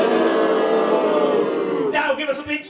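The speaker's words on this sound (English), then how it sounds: "Everybody, give us a big boo." A theater audience gives a loud, drawn-out collective boo that swells and holds, then breaks into scattered shouts and whoops near the end.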